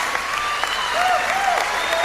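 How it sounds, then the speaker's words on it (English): An audience at an awards ceremony claps in a dense, steady burst of applause, with a voice talking over the clapping. "They clapping for him"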